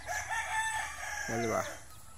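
A Paladin gamefowl rooster, a two-time fight winner on a farm, gives a single short crow near the end, after a stretch of background birdsong and farm noise.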